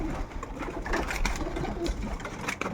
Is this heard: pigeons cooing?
yes